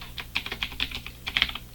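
Quick, light clicks of typing on a computer keyboard, a dozen or so keystrokes in an uneven rhythm, close and fairly quiet.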